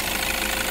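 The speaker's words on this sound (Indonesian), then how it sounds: "ini ya ciri khas Innova diesel, suaranya kerincing-kerincing ya" A 2013 Toyota Kijang Innova automatic diesel, Type G, idles steadily with a dense, continuous engine clatter and metallic rattling, loud and close, with no voices.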